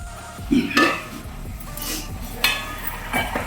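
A spoon scrapes and clinks against a pan in a few uneven strokes as snail curry bubbles and sizzles softly beneath.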